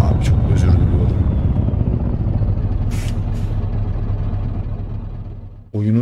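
A Scania S500 truck in a truck driving game on an extreme roads map mod gives a loud, steady engine drone with a couple of brief hissing bursts, running continuously until it cuts out just before the end.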